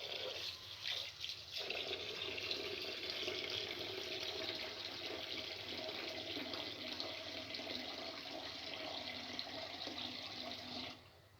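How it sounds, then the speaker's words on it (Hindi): Basmati rice being washed by hand in water, a steady running and sloshing water sound with faint rubbing, close and continuous for several seconds before it stops abruptly. "चावलों को इस तरह से मसल के धोना चाहिए ताकि इसमें अच्छी तरह से साफ़ हो जाए।"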